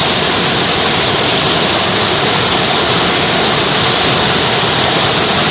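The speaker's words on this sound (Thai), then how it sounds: "น้ำไหลนะครับ" Floodwater pouring over an overflow weir on a high-water day, a loud, constant, roaring rush of water that is dense and close throughout, with no talk heard.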